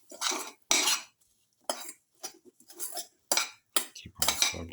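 A metal spoon stirs salt into a coconut, shallot and tomato dip casserole in a pot, making repeated scraping clinks in irregular bursts with short pauses, close and clear, no talking.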